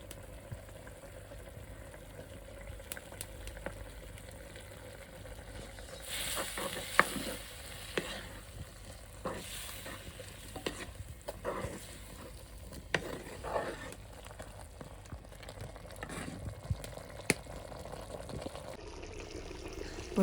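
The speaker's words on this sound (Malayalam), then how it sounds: "മുരിങ്ങക്കയുടെ കൂട്ട് തിളച്ചിട്ടുണ്ട്" A Kerala-style fish curry with drumsticks bubbles and simmers in a pan, a continuous gentle bubbling and sizzle with intermittent stirring and clinking from close by, no speech.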